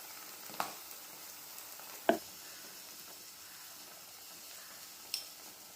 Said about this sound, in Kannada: ತುಂಬ ಚೆನ್ನಾಗಿ ಎಣ್ಣೆಯಲ್ಲಿ 2 ನಿಮಿಷ ಫ್ರೈ ಮಾಡಬೇಕು